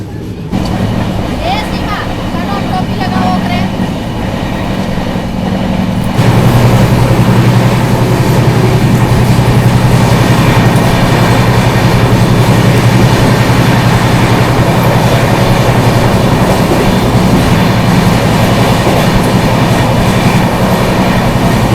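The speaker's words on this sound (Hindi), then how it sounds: "ये 2 वंदे भारत जो है ना लाइन में लगी पड़ी है, और दोनों बैक टू बैक क्रॉस करेंगी।" Vande Bharat trains crossing back to back on a railway in India, heard from aboard the Farakka Express: a loud, continuous rush and rumble of passing rail cars that grows stronger after a quieter opening, with people talking throughout.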